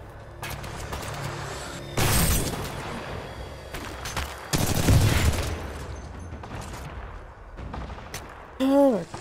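Gunfire in the video game Titanfall 2, with loud bursts of shots around 2 s and 5 s over continuous battle noise, and a voice briefly speaking near the end.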